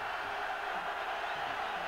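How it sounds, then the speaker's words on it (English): A home crowd at a 1999 Virginia college football game against Georgia Tech, a broad steady roar of cheering through the whole short moment. "Wahoo crowd on its feet."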